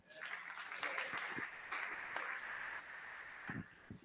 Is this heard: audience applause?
yes